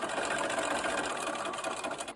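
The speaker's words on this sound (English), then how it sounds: "when I go through this intersection, I just keep on sewing" Sewing machine stitching pieced quilt blocks for a feathered star with half-square triangles, running steadily and continuously at close range with no pauses or talk.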